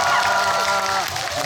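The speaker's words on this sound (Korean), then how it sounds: "일단 박수 한번 주세요" An audience at a film talk event applauds and cheers in a dense burst of clapping, lively and continuous for about a second and a half.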